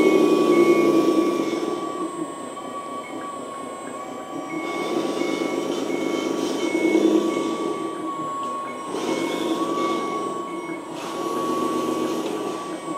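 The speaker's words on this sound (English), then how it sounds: "Okay, start the pump. Now it is at a low speed." A 1/12-scale metal hydraulic RC loader modelled on the CAT 950 (DIM) runs its hydraulic pump at low speed, giving a steady, moderately loud mechanical whine and hum that swells and eases in a few slow waves.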